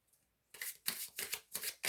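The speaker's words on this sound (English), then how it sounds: "Going to do one last shuffle of the cards." A deck of tarot cards being shuffled up close, a soft tap followed by four or five loud riffling bursts in quick rhythm, with no talking.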